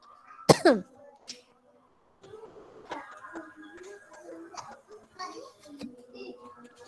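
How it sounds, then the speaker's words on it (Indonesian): A single sharp, close cough bursts out, followed by quieter throat sounds and soft speech in a quiet room. "Ya, saya agak batuk."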